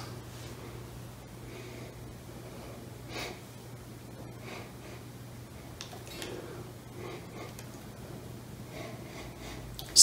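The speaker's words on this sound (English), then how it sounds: "We have to sniff this." A person sniffs a newly unboxed Chapman ML1 Pro Traditional electric guitar, giving several short, close nasal inhales spread across a quiet room, with faint ticks and a sharp knock at the very end.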